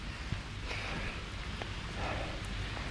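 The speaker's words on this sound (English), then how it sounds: "it's the first day since I started the challenge that we're running in rain." Rain falls steadily during an outdoor run, a dense, even hiss of drops with a few soft taps standing out, close and continuous throughout.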